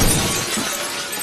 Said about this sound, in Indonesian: Sean mulai menghancurkan tempat itu dengan melempar sebuah vel mobil ke jendela kaca